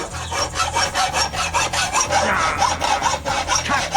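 A hacksaw cuts metal clamped in vise grips, with quick, steady back-and-forth strokes heard up close and no talking.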